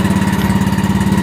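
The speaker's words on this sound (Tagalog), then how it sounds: "Ngayon mabuti na lang may makina, mga motor." Boat motor of a Filipino fishing boat running fast at sea, a steady loud throbbing drone with rapid regular pulsing throughout, close and continuous with no voices.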